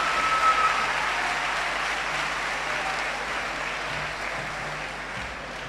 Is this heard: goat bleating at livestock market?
no